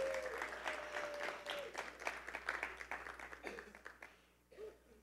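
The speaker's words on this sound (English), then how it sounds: "So let's give him a hand as he comes forward." A small group claps for a guest speaker as he comes forward, the separate hand claps audible in a loose, uneven patter that thins out and fades near the end, with faint voices underneath.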